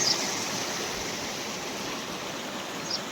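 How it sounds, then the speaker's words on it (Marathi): Fast-moving flood water in a stream roars in a steady, dense rush after heavy rain, close and loud, without any break. "लई स्पीडनी पाणी आलं आहे"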